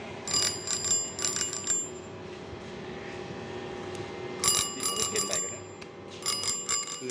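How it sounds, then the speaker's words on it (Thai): A new bicycle's bell rung indoors in a bike shop, several quick bright trilling bursts repeated in clusters, fairly close and clear over a low background hum. "นี่นะฮะกระดิ่งดังอยู่นะฮะ"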